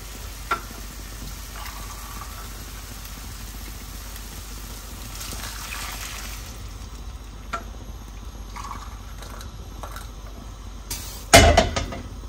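A Gilani dill and chicken stew sizzles and fries steadily in a pot, with faint stirring clicks. Near the end, boiling water is poured in with a sudden louder hiss and splash. No one talks.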